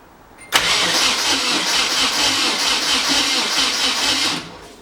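Nissan 240SX turbo engine fires abruptly after a brief pause and runs at a loud, steady idle for about four seconds before cutting out.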